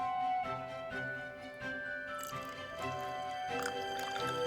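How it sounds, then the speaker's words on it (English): Hot water is poured over a tea bag in a cup, a steady close trickle with small splashes and drips over a soft, sustained tonal background. "and I'm going to pour hot water over it."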